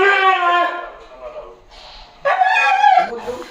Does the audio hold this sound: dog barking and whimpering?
yes